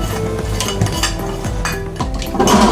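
A utensil stirs hilsa fish bhapa with cumin powder in an open pressure cooker. It gives close, steady metallic scraping and clinking against the pot.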